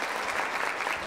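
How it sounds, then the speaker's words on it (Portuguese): An audience in a municipal theater in Santos applauds with a brief, steady burst of dense clapping. "Uma salva de palmas."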